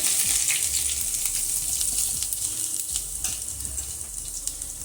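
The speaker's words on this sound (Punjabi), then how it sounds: "ਤੇਲ ਗਰਮ ਹੋ ਗਿਆ ਸੀ ਇੱਥੇ ਲੈਵਾਂ ਜੀ ਆਪਾਂ ਖੜੇ ਮਸਾਲੇ ਜੀਰਾ ਲਾਲ ਮਿਰਚ ਤੇਜ ਪੱਤਰ" Whole spices, cumin, dried red chilli, bay leaf and finely chopped ginger sizzle in hot oil, a steady loud crackling hiss with small pops throughout.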